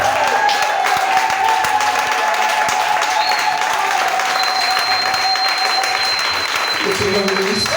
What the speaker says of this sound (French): Ça, c'est des applaudissements ingrats.